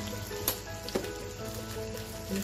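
Asafoetida and turmeric drop into hot oil for a South Indian aloo masala, giving a soft, continuous sizzle with a couple of sharp crackles near the start.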